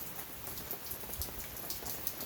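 Steady rain falling outdoors, a dense close patter of drops hitting surfaces that fills the whole moment, with no voices.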